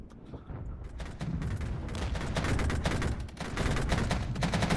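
Battle in the Regiments strategy game, with dense rattling gunfire and dull artillery shell blasts layered into a continuous loud din that swells and keeps rolling without a break.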